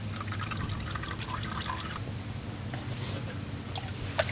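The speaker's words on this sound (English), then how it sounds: "And there it is, dripping oil." Used motor oil drips from a loosened oil filter on a Hyundai Elantra Touring during an oil change, giving steady soft liquid dripping and trickling close by, with no talk.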